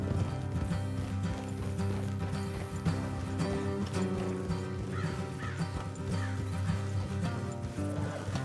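Horse hooves clip-clop steadily over a dense layer of Red Dead Redemption 2 game music, with occasional whinnies and bird caws in the background.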